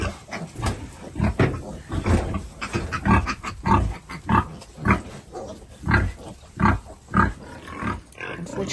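Piglets grunting and oinking in a farm pen after a flood, a busy run of short, loud, rhythmic grunts packed closely together, up close, with no talking.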